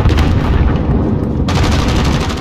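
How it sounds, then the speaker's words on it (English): Continuous loud, dense gunfire from a VLK shotgun loaded with Dragon's Breath rounds in a video game, with heavy booming blasts running throughout and no clear pauses. "I don't know how strong the Dragon's Breath is on this shotgun"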